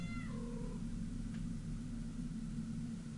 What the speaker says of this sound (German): Katzen.